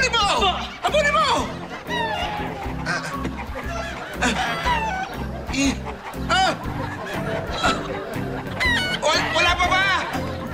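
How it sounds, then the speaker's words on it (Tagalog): A loose chicken clucks and squawks in a comedy sketch, its calls rising through a busy, continuous scene of people shouting and talking loudly nearby. "yung manok, nakawala!"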